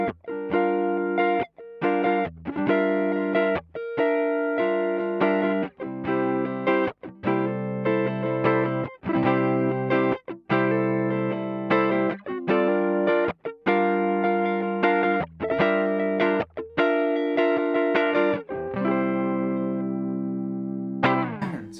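A dry distorted electric guitar played through a Marshall Origin 50 tube amp head, on the neck pickup, plays chords and riffs alone, loud and close, with steady strums and short breaks, ending on a sustained ringing chord.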